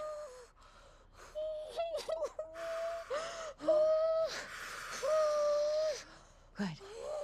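Woman in labour during childbirth doing breathing exercises: sharp gasps, wheezy breaths and strained vocal groans rising and falling in bursts, close and clear, with another voice talking in between.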